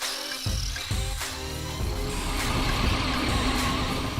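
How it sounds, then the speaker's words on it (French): A fast radio-controlled car fitted with saw blades on its wheels accelerates, its small motor whining and rising steadily at close range with no speech. "il faut aller doucement, progressivement. Il faut prendre la vitesse"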